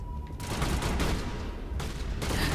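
Dense, loud bursts of automatic gunfire in a Mass Effect Legendary Edition firefight, fired in short volleys with brief gaps, continuous and close with no talking.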